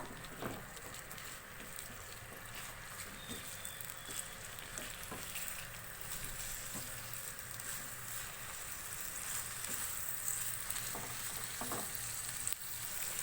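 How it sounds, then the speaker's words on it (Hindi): Chicken mince, about 750 grams, fries in a pan with a soft, steady sizzle and a crackle running throughout, broken by occasional scrapes and taps of a spoon as it is stirred. "कीमे को मैंने 2 से 3 मिनट फ्राई कर लिया है"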